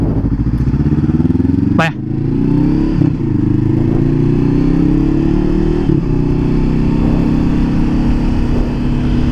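A Honda CBR500R motorcycle is being ridden, its engine giving a steady, close, loud drone throughout. The rider talks over it the whole time.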